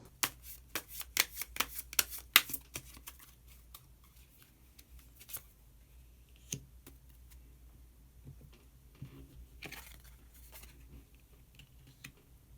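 Tarot cards being shuffled and drawn make a quick run of crisp, close riffling snaps, then quieter scattered flicks and slides as single cards are pulled.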